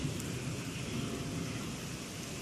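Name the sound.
thunder during a rainstorm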